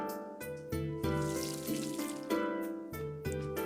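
Water splashes and trickles over steady, melodic game music, with a few soft chimes as plants are watered in the farming game Pumpkin Days.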